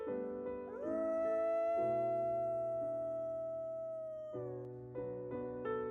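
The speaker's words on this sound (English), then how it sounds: "Suddenly, he heard a soft crying sound." A white wolf trapped under a heavy branch in an icy, snowy forest cries softly, rendered as a sustained, wavering howl-like whine with harmonic tones that rise, hold for several seconds, then break into shorter whimpers; no talk.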